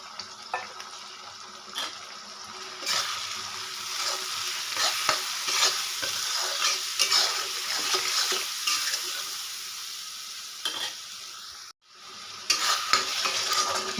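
Spice paste of cumin, coriander, turmeric, chilli powder and salt sizzles in oil for chickpea ghugni, with steady frying crackle and repeated scraping stirs close by, briefly cutting out near the end.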